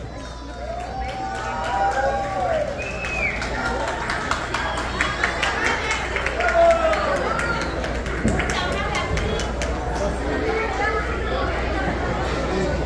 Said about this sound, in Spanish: fuerte aplauso, que se escuche